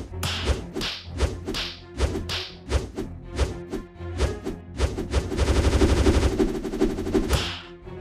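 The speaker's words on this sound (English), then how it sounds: "There are tons of fun to be had with fireworks." Fireworks crack and bang in rapid series, sharp reports every half second building into a dense crackling barrage before fading, loud and fairly close.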